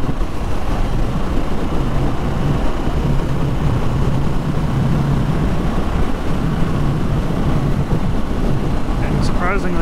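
A 2022 Harley-Davidson Sportster S with the new 1250 engine riding at about 60 mph, a loud steady engine drone mixed with heavy wind rush, continuous and close.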